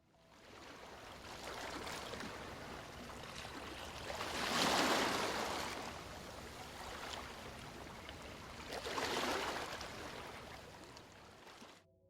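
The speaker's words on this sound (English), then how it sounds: "The only noise is the lapping of ocean water against my body." Ocean water laps and sloshes steadily against a floating body in open sea, with two louder swells washing through and no other sounds around.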